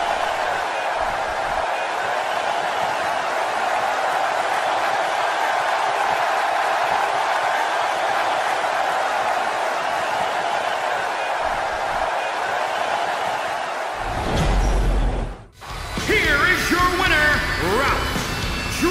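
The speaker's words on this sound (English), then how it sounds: "listen to those cheers" A steady crowd roar with cheering fills a WWE 2K20 wrestling arena at a WrestleMania event, continuous and loud, and then it cuts to a brief burst of different game audio near the end.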